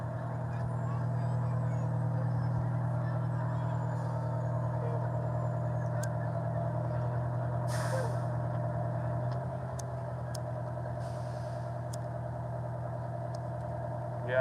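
Fire trucks idle at a city parade in Evarts, Harlan County, Kentucky, with a steady, close engine rumble that runs the whole time and steps down to a lower drone about halfway through.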